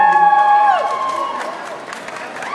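An audience claps and cheers for the performer at a live music show. The response is loud and close at first, then fades and thins into scattered claps and crowd noise.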